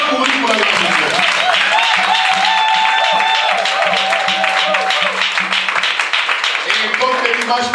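Church congregation applauding during a worship service, dense continuous clapping filling the space with voices and sustained musical tones mixed in throughout.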